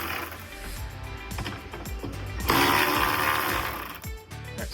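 Hood hinge bolts on a BMW X5 E70 being loosened with a power tool, a loud rattling whir in short bursts and one longer sustained run, close by.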